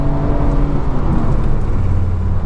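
A BMW 340i with its B58 engine cruises on a highway in traffic, a loud steady engine drone and road roar from inside the car with no voices.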